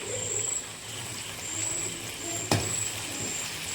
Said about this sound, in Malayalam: ഇനി അതിലോട്ട് നമുക്ക് നേരത്തെ അരിഞ്ഞു വെച്ച തക്കാളി ഇട്ട് കൊടുക്കാം